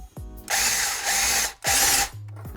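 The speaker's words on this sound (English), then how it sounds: "will it be enough for me to just put a screw on and drill it through the tire" A power drill drives a screw into a motorcycle tire for an ice-tire build, in three loud, close bursts of whining drilling separated by short pauses, with a low motor hum at the end.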